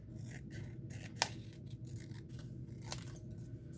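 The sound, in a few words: scissors snipping paper edge of a junk journal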